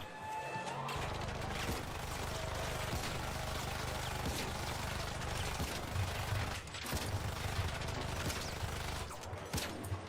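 Rapid video game gunfire and crashing impacts in dense, continuous bursts, with some mechanical clatter, at moderate loudness throughout.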